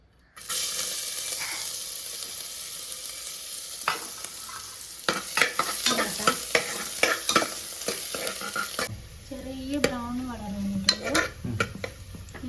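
Chopped onion and coconut mix sizzles and fries steadily in a hot pan, with repeated scraping and clinking of a spoon stirring through it.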